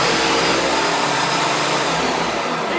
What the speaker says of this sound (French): Donc on va mixer puissance 10.